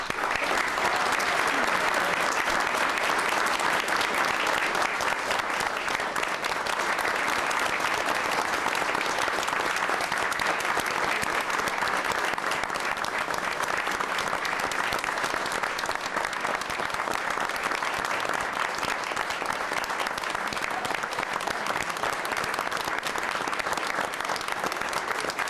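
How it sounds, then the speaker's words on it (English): Sustained, loud applause from a city council ceremony audience honoring veterans and their families, a dense steady roar of clapping hands that holds evenly for the full stretch without letting up. "Would you please join me in a round of applause for our honored veterans and their families?"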